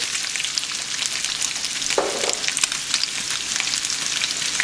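Onions going into a pan of frying pork belly, with a steady crackling sizzle throughout and a brief stirring scrape near the middle, close and continuous, with no talking.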